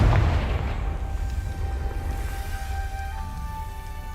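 Confringo fire spell cast in Hogwarts Legacy, a deep booming blast at the start that rolls into a long low rumble and fading tonal ring, loud and alone.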